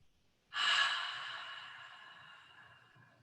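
A single long Ujjayi breath during a yoga class: a breathy, ocean-like hiss that starts abruptly, is fairly close and clear, and tapers off slowly over a few seconds in a quiet room.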